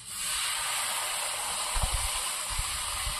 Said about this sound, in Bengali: এবার কড়াইতে একটু জল দিয়ে দেবো